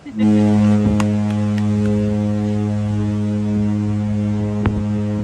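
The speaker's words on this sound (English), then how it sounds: "That was the foghorn from the Venezia." A deep, sustained foghorn from the cruise ship Carnival Venezia booms continuously, loud and steady, with a few faint clicks and knocks in the background.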